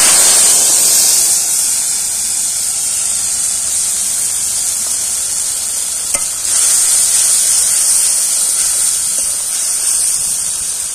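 Spice paste poured into hot oil over a village clay stove, a loud continuous sizzle and hiss with stirring scrapes, a sharp burst as it hits the oil, then steady frying.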